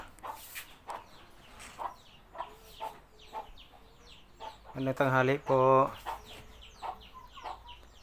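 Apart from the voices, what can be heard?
chickens clucking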